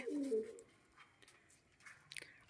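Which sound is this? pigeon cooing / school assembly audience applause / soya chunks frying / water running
pigeon cooing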